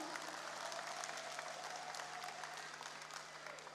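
A crowd at a political volunteer declaration rally in Indonesia claps steadily, a dense, fairly distant wash of applause that holds even and fades slightly toward the end.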